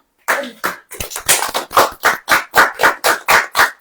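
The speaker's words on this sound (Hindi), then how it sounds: "ताली हो जाइए" A church congregation claps during a sermon: about a dozen loud, close claps land in an even rhythm, the first few a little ragged before they settle into a steady beat.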